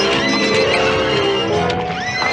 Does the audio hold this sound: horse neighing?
yes